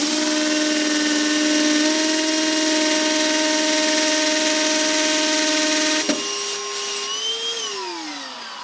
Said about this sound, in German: Now we drill the first hole into the wall with a 3 mm drill bit.